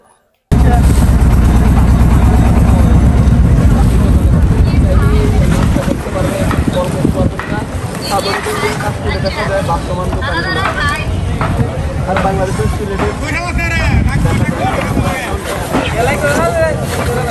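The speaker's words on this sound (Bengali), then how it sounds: "আমাদের ট্রলারের যে স্পিড এটা কমাই ফেলছে না হলে দাঁড়াতে পারবে না" A trawler's engine on a haor in Nikli, Kishoreganj, starts as a loud, close low rumble and then drops to a quieter chug as the boat slows. Voices chatter over the engine and a wave of water noise.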